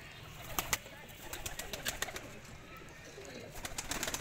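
Soft cooing from a Kamagar pigeon amid a busy, noisy background with scattered sharp clicks and rustles, the bird close but not loud.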